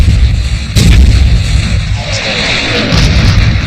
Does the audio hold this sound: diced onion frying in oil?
no